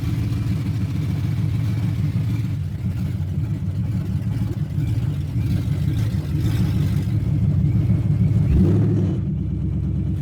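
A Cobra's engine runs outside to warm up, a steady loud low rumble with a strong harmonic drone throughout, briefly shifting near the end as revs change.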